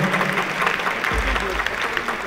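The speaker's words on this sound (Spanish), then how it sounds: "Saulito Flores, un aplauso por favor, quien es encargado del mando electrónico." A concert audience in Potosí breaks into applause, a dense wash of clapping that runs throughout with a voice speaking over it.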